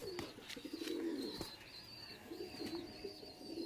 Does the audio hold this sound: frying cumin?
no